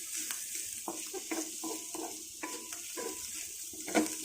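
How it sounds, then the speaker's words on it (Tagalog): Ginger sautés in a pan for sinampalukang manok, a soft, steady sizzle broken by repeated spoon scrapes and clinks against the pan, fairly quiet and close. "Next ang luya or ginger. Isutay lang natin hanggang lumabas yung aroma."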